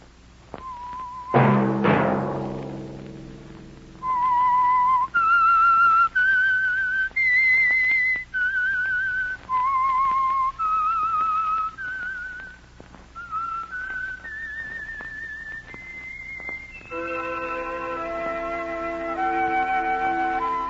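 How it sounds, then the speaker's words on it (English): A clear, close whistled melody, the theme tune of The Whistler radio drama, rises and falls in long sustained notes, with a short orchestral sting near the start and no talking over it. "Let that whistle be your signal for the Whistler each Sunday night at the same time"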